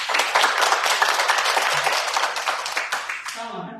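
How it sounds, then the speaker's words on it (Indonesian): A church congregation at a Christmas service claps together in dense, lively applause that stays strong throughout before tapering off at the end. "Berikan tepuk tangan."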